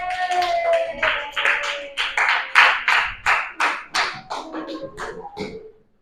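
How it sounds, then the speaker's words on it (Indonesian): Classroom applause for a student group returning to their seats, a few pairs of hands clapping in short uneven bursts over about six seconds, fairly close and fading at the end, with no talk. "Beri tepuk tangan untuk kelompok 1"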